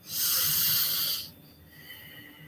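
A slow, deep breath during a hypnosis session: a loud, airy inhale lasting about a second, then a quieter, softer exhale in a calm setting.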